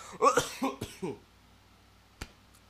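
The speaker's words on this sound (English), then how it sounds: "Sorry, again, I have a little bit of a cough." A person with a mild cold coughs several times in a quick, close burst, followed after a pause by a single sharp throat sound; no speech, with quiet game audio in the background.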